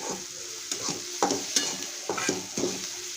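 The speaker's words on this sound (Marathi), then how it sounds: "हळद जरा हलवून घेते" A spoon stirs turmeric through a frying mixture in a pan, a series of scraping strokes spaced through the clip over a steady low sizzle, close and clear, with no voices.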